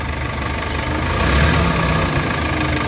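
A Hyundai H100 engine, after treatment for weak pull, runs steadily at about 2,000 RPM, a loud close drone with a low rumbling undertone throughout.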